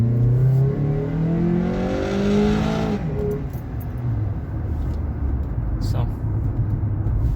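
A car engine with a Roar throttle pedal controller set to race mode revs up in a rising, droning climb, then drops back to a lower hum with a few clicks. Someone talks briefly over it.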